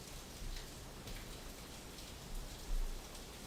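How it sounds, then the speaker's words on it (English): Steady rain falls outside, a dense even hiss with a few louder gusts of drops, heard alone without voices. "You hear the rain."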